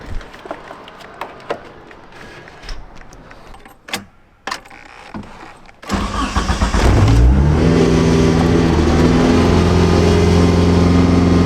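A Suzuki GSX motorcycle engine cranks and catches, then settles into a loud, steady idle with a revving rise, preceded by a few clicks and taps.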